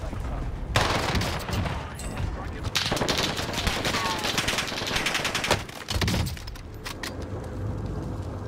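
Rapid, sustained PPSh submachine gun fire in Call of Duty: Vanguard, loud continuous bursts filling most of the stretch with brief pauses between volleys and a steady game-ambience bed.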